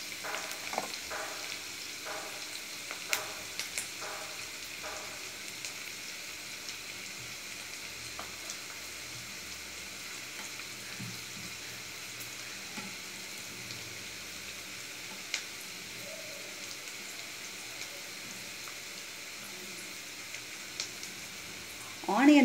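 Onions sautéing in oil for a broccoli egg stir-fry, a steady close sizzling hiss with soft stirring scrapes at the start, no talk.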